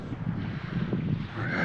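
Strong wind blowing on a remote island beach buffets the microphone with a steady, rough rushing roar for a short moment, with no voices.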